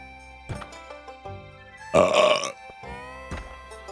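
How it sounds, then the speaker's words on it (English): A loud, drawn-out human burp rumbles close to the microphone during a casual livestream, with faint background noise around it. "You made me burp, I'm sorry."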